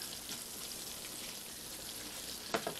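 Steady bubbling sizzle of breaded chicken frying in hot oil, close and continuous, with a brief sharper crackle near the end.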